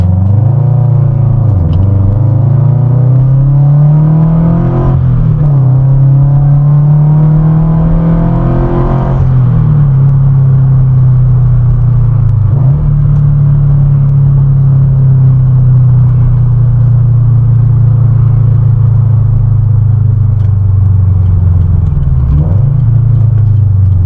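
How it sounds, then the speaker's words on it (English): Loud, steady highway traffic roars right beside a modified Subaru BRZ, with a deep continuous rumble and rising and falling engine sweeps throughout. No one speaks. "sorry the highway's so loud, it's literally right there"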